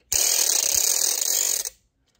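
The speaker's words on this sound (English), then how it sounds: "Maybe your favorite is the ratchet." A classroom percussion ratchet gives one loud, continuous burst of rapid dry clicking that lasts about a second and a half, then stops abruptly.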